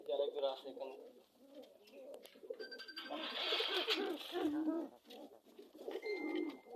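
White Bombay pigeons coo in soft repeated phrases, with a voice talking over them through much of the stretch.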